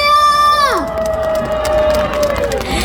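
A crowd at an outdoor tomato festival stage cheers and claps for a singer announcing her first solo concert. One high voice holds a sliding whoop before the scattered clapping and shouting take over, steady and fairly close.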